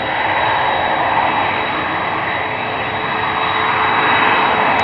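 Steady, loud roar of Suparna Airlines airplane jet engines at Amsterdam Schiphol Airport during Polderbaan departures, a continuous broadband rumble with a faint high whine, no voices.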